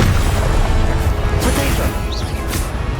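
Confringo blasting spell in Hogwarts Legacy, loud booming impacts and crashing bursts layered over continuous battle noise, with a couple of sharp whistling streaks cutting through.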